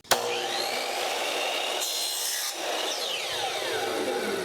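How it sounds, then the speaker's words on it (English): A hand saw cuts through a 1/2-inch wooden dowel in a steady, close, rasping stroke, with a brief sharp knock at the start. "So I've got some 1/2-inch dowel and I just want to make sure it's cut square. And I'll cut maybe a 2-inch piece."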